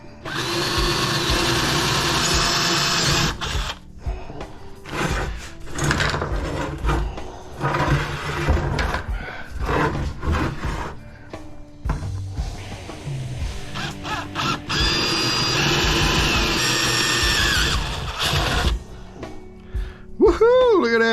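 Power drill boring through metal during scrap work, a steady loud grinding whine that surges and dips as pressure changes, with brief pauses and people talking over it.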